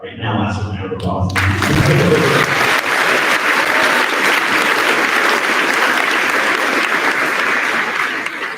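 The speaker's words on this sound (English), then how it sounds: "now that's a round of applause" Sustained audience applause fills a school hall at an 8th grade awards ceremony, starting right after a brief spoken introduction and holding steady and loud as a dense wash of many hands clapping.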